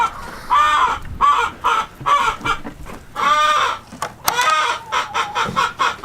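Farm chickens, including older laying hens, cluck and squawk repeatedly at close range in bursts of overlapping calls, with no talk over them.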